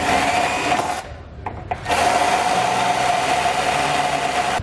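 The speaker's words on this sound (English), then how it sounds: "we just want to grab a die grinder bit with a drill and kind of open this up" A drill with a die grinder bit whines steadily, enlarging a hole in the metal frame of a 2019 Ford Escape, pauses briefly for about a second, then resumes its continuous high buzzing grind.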